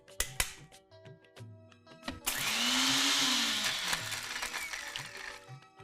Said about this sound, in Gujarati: હવે આ બધી વસ્તુને ક્રશ કરી લઈએ